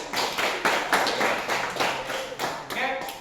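Students in a physical education class clap together, a fairly close patter of hand claps in uneven bursts, with no voices over it.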